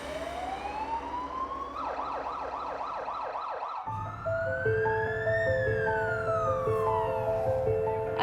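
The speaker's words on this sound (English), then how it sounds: "He's being loaded up into the ambulance and being transported as we speak." An ambulance siren wails loudly while carrying a patient, first a rising tone into a rapid yelp, then a long swooping wail with a second tone overlapping, close and steady over road noise.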